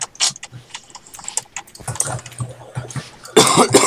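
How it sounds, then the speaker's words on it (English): Cough-and-sneeze burst from a person playing a Minecraft survival game, a sharp noisy blast near the end after scattered softer sounds, close to the microphone. "I just like sneezed and coughed at the same time."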